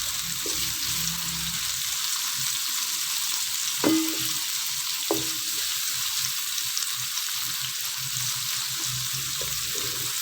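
Onions and spices fry in a pan for a potato and capsicum curry, giving a continuous, even sizzle with a couple of brief utensil clinks, close and without speech.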